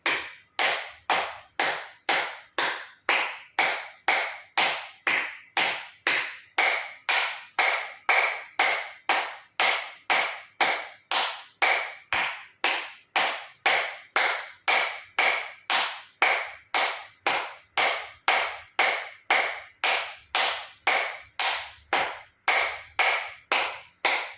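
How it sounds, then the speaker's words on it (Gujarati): Acupressure clapping with full palms and fingers meeting flat, about fifty sharp claps in a steady even rhythm, close and clear with nothing else heard. "એક્યુપ્રેશર તાળી પૂરેપૂરા આંગળા હથેળી પૂરેપૂરું ટચ થાય રીતે 50 વખત તાળી પાડીશું"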